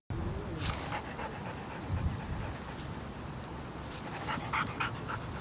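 A service dog at a canine training centre pants in quick, soft bursts close by, with faint whimpers over a steady outdoor background hiss.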